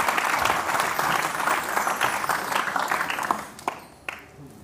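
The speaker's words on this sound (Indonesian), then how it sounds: "Tepuk tangan buat." Audience applause at a stand-up comedy show, a dense burst of clapping that tapers off into a few scattered claps at the end.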